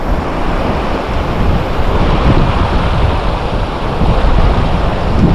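Small ocean waves breaking on a flat, calm sea, a loud continuous wash of surf with wind buffeting the microphone, swelling slightly toward the end.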